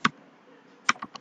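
Several quick keystrokes on a computer keyboard while setting up a React JS app: one tap, a pause, then a cluster of three clicks, close and fairly quiet.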